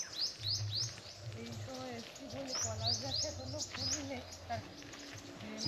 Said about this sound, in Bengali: পাখিদের ডাকগুলো একটু শুনুন